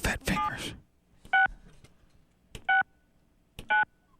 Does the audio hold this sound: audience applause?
no